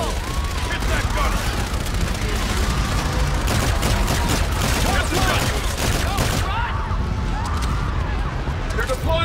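Dense automatic gunfire rattles nonstop in the Call of Duty: Infinite Warfare campaign, a loud battle mix of rapid shots and explosions that continues without a break throughout.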